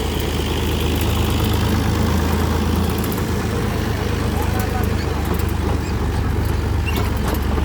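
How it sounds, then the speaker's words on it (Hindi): A push-start tractor idles outdoors, its loud, steady low engine rumble chugging continuously and close throughout. "धक्का स्टार्ट है हमारा ट्रैक्टर"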